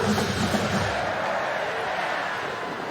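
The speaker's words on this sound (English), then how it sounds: "First time this crowd's been excited in about 10 minutes here" A stadium crowd cheers at a college football game, UCLA at Washington State, with a swell of broad roar that is loudest at first and then eases into a steady wash of distant noise.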